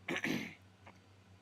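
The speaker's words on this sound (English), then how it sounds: "Apologies, I still got this cough from," A man gives a short, harsh throat-clearing cough, close up, followed by a fainter second catch in the throat in a quiet room.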